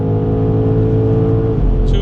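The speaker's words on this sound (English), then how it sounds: "Let's just go full throttle." A 2025 BMW M5 G90 pulls hard at full throttle at night, a loud sustained engine drone with steady harmonic tones from inside the car, ending with a brief higher whine; no talking.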